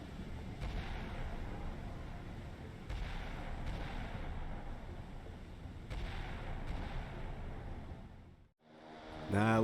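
Naval guns in the Sea Power warship game fire a salvo: dense, sustained rumbling booms with repeated heavy reports every couple of seconds, a brief drop near the end, then a sharp loud burst.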